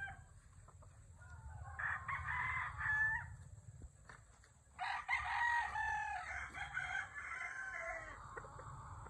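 A 5K sweater gamefowl rooster from RHG Game Farm gives two long, close crows separated by a short pause, with a steady low hum underneath.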